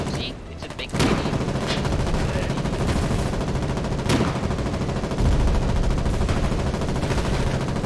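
Heavy gunfire in the video game Foxhole during combined arms fighting on Tempest Island, dense overlapping rifle and machine gun bursts with sharp individual shots in a loud, continuous battle din.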